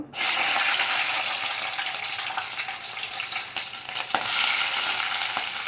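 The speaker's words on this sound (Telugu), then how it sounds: "ఆనియన్స్ వేసుకోవాలండి కొంచెం వేగనివ్వాలి" Onions fry in hot oil in a pan, a close, even sizzle with faint clinks and stirs running throughout, no voices.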